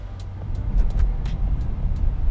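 A 2018 BMW M5 in sport mode rolls along with a low, steady engine rumble and road noise heard from inside the cabin, with occasional small knocks from bumps.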